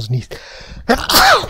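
A single sharp sneeze bursts out near the microphone during an Avorion gaming session, with brief German talk just before it.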